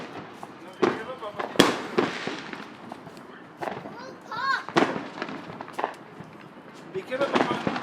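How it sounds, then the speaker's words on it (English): A July 4th fireworks show, with a run of sharp popping and crackling bursts at irregular intervals, some loud and close, while an adult and someone talk over them. "there's a lot of fireworks"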